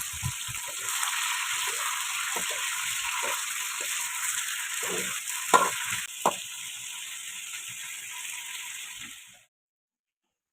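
Something roasts dry in a pan over a gas stove in an Assam village kitchen, a steady soft hiss broken by scattered clicks and scrapes of stirring, ending in sudden silence.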